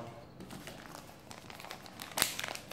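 Plastic packaging around T12 soldering iron tips crinkles and tears as it is peeled open by hand, close and fairly quiet, with a sharper rip near the end and no talking.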